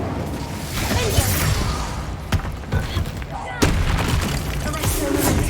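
Spell-casting blasts from a Hogwarts Legacy battle: several sharp booming impacts and whooshes burst out over a dense, continuous game soundscape, loud and close, with a voice calling out between them.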